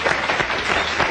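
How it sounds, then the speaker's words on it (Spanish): Studio audience applauding a guest on a Spanish-language morning TV show, a steady dense wash of clapping throughout with no talk over it. "Un aplauso para él."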